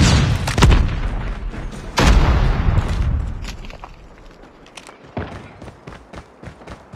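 Frag grenade blasts in a Call of Duty Search & Destroy ranked match: two loud, deep booming explosions a second or so apart, each trailing into rumbling debris, followed by quieter scattered thuds and footsteps.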